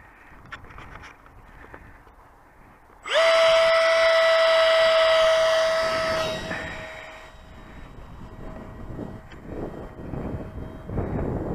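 Savannah EDF jet radio-controlled model aircraft powering up from the ground near the pilot, a sudden loud rising whine of the ducted fan that holds steady, then fades gradually as it climbs away.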